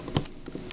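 A pair of scissors snips once, close and brief, while a doll playset is unboxed.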